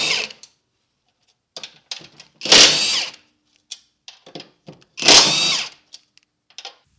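A Hercules brushless 20V impact wrench with an extended anvil fires in two loud, rapid hammering bursts of about half a second each, set among shorter mechanical clicks and rattles at close range.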